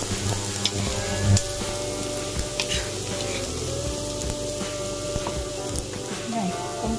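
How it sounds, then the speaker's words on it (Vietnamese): Shrimp stir-fried in a little oil with fragrant onions, a steady crackling sizzle with occasional clinks of the utensil, heard under a speaking voice. "Khi hành dậy mùi rồi thì mình cho tôm đâm vô đây luôn nha."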